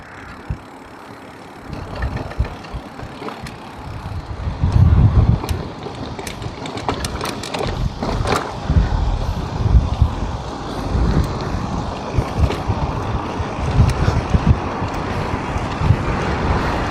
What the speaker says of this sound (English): I'm getting blown along by the wind.